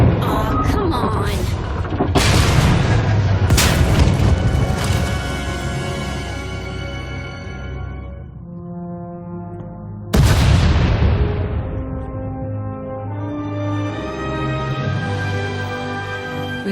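Explosions in SWTOR as a tunnel collapses: two heavy booms, each followed by long ringing, rumbling debris decay, loud and close, with the second blast arriving after a quieter lull.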